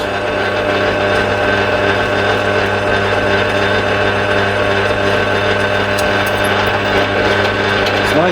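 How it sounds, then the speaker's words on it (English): A pillar drill runs steadily at close range, giving a constant, fairly quiet motor hum and whir with no pauses and no voices. "a pillar drill that's a little less rugged for the more refined jobs."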